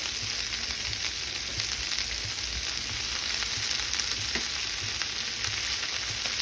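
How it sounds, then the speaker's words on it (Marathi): Finely chopped fenugreek leaves frying in oil in a pot for lasuni methi, a steady, dense sizzle throughout with faint stirring clicks, close and continuous. "आता इथे एका भांड्यात मी तेल घेतलेलं आहे त्याच्यामध्ये बारीक चिरलेली मेथी घालायची आहे"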